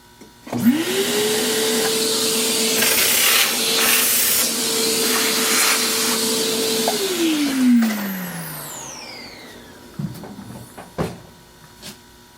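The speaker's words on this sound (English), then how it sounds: "I'm going to vacuum off the fret dust every single time I'm done doing a pass" A vacuum cleaner draws fret dust off a guitar and a sandpaper-covered leveling beam, starting with a rising whine that holds steady and loud for several seconds. It then winds down, followed by a few faint knocks and handling sounds.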